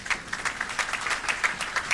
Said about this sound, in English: You may be seated with a clap offering, please.